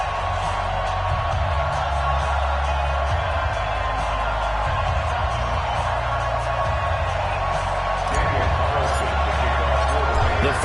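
A packed stadium crowd in an American football video game, Raiders fans in silver and black roaring steadily, a loud sustained cheer under a commentator's voice, swelling slightly near the end.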